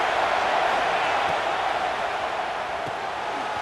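Dense, steady roar of a football stadium crowd during a fourth-down play in a Stanford vs Washington game, loud and sustained throughout without letting up.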